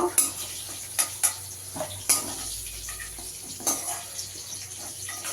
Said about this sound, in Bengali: আলুগুলোকে একটু লাল করে ভেজে নিই